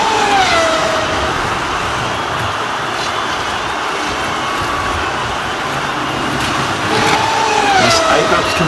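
A Scalextric slot car lapping a track, steady loud whirring motor drone throughout with a rising whine as it passes near the start and again near the end.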